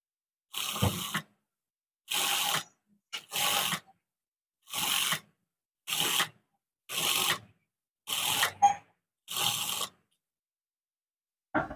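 A sewing machine stitches piping onto fabric in about eight short runs of a second or so each, separated by brief quiet pauses. The whirring sounds close and moderately loud.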